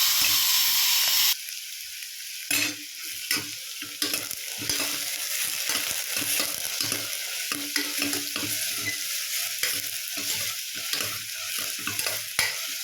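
Onions and curry leaves sauté in a pan for a dhal, giving a steady sizzle and fry with repeated stirring and scraping. There is no talking over it.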